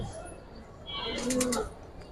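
Giribaz and silver pigeons being sold give a soft, brief coo close by, a low throaty call swelling over faint background noise and murmuring.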